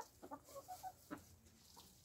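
An old hen gives a few soft, close clucks and short calls, faint against a quiet background, in winter housing.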